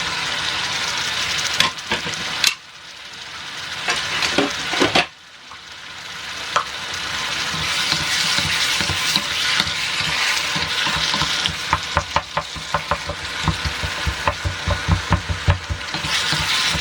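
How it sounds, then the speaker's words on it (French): Mushrooms and vegetables sautéed over high heat in a pan, a loud continuous sizzle and hiss with clattering stirs and tossing scrapes, close and without speech. "Moi je cherche juste à les faire sauter, revenir à feu vif."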